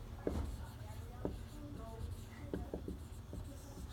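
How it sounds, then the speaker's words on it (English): Marker on a classroom board squeaks and scratches in short strokes and taps, steady and close, with a low hum beneath. "I'll write you a little hint up here"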